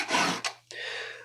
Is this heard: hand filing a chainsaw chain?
yes